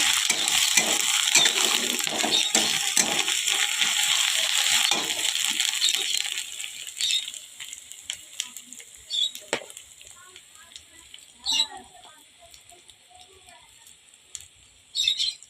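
Ground spices going into a hot pan of oil, with close, dense sizzling and frying over the first half that then thins to quieter crackles and occasional sharp scraping stirs.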